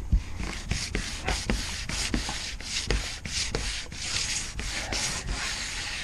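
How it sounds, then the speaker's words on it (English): Steady rhythmic sanding on the hull of a Thunderbird tri-hull boat under restoration, a close, continuous scratchy rubbing with regular back-and-forth strokes and no talk. "Might need to get another fresh sanding on there."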